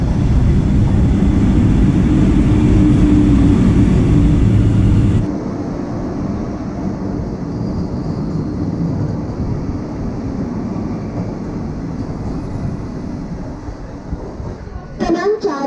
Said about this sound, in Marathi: भांडूप स्टेशनवरनं आता जलद गाडी जात आहे,